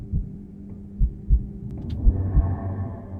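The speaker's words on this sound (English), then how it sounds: "I don't know if that heartbeat's too loud or not." A video game heartbeat thumps low and heavy in slow, uneven double beats over a faint background hum, close and prominent with no talk.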